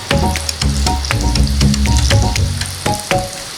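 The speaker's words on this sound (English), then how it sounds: "you may need to deep fry the mushroom chunks in 2 or more batches" Loud, continuous sizzling of mushroom chunks deep frying in hot oil, with crackles and pops throughout and no voices.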